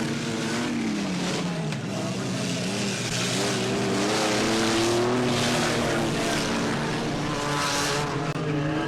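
Race cars competing at Ballinhassig outside Cork city in 1977, engines roaring continuously and loudly with rising and falling pitch as cars pass and shift, a dense, sustained mechanical drone throughout.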